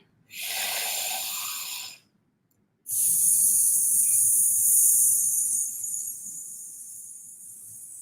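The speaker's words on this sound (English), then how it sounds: "Breathing in." A long, audible inhale during a voice-training breathing exercise, a breathy hiss that stops briefly before a second, longer drawn-in breath that fades slowly near the end.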